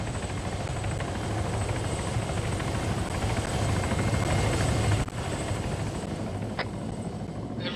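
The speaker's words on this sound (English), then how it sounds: "Get to the chopper!" A helicopter in the military game Arma 3 runs steadily, with a loud, constant rotor and turbine drone close by that barely changes, plus a brief click partway through and no voices.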